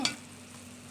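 Sweet and sour sauce simmering in a pan, a soft continuous sizzling bubble after a brief utensil clink at the start, close and steady with no talk.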